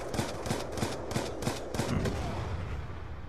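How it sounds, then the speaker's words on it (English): Rapid gunfire in a video game during league play: a string of sharp, closely spaced shots and short bursts over about three seconds, fairly close and prominent. "I just hear shooting."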